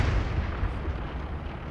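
Booming gunfire from a video game, heavy muffled low blasts rolling one after another over a continuous rumble, fairly loud with no speech.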